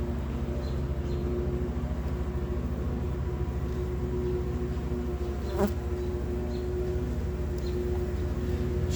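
Honeybees buzz around a hive outdoors, a steady, even drone of many insects at moderate level that holds throughout, with a faint brief tick near the middle and no voices.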